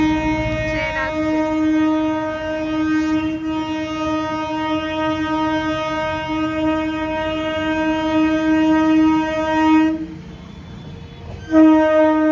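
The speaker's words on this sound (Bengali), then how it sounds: "ওই দেখ ট্রেন আসছে" A train pulls close at Prinsep Ghat in Kolkata, its long, steady horn blaring loud and unbroken for about ten seconds with rumbling wheels beneath, then a brief lull before the horn sounds again.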